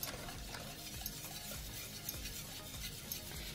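Milk heating in a pan for pastéis de nata-style flans, a steady close bubbling and faint sizzle with soft stirring scrapes, continuous with no talk.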